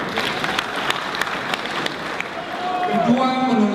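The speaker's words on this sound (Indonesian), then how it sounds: "Tepuk tangan." Audience applause during a political debate among activists, observers and politicians, a loose crowd clapping at moderate distance, with a voice speaking over the last second.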